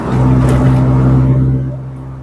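Mercedes-Benz C200 W202 sedan, engine freshly overhauled, cruising along an open out-of-town road, a steady loud low engine drone with tyre and road roar that holds, then eases off slightly toward the end.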